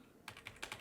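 Quick burst of four or five keystrokes on a computer keyboard, close and faint, in a brief uneven run.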